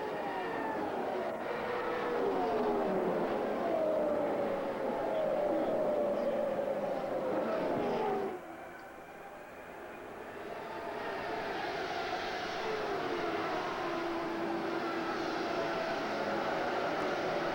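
IndyCar race cars from the 1989 CART season roar along the backstretch at Milwaukee, a continuous loud engine drone with pitch sweeps as cars pass, dipping briefly then building again.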